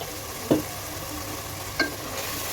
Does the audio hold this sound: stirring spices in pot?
yes